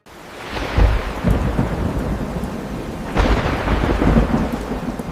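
Steady heavy rain pours throughout while two deep rumbling thunderclaps roll in, one near the start and another midway, loud and close.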